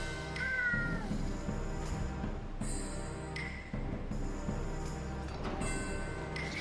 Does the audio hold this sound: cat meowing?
yes